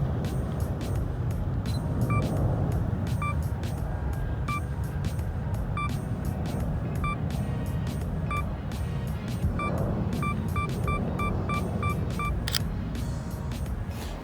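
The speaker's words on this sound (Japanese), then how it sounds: "ちなみにソニー α6500 の動作音はこんな感じです" A Sony α6500 camera self-timer sounds its countdown of short, high beeps, first slow and evenly spaced, then a rapid burst, faint over a steady rumble of traffic outdoors.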